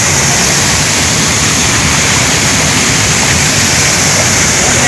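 Hogenakkal waterfall spray pounding and splashing up close, a loud, dense, continuous rush of water that fills the whole stretch without a break.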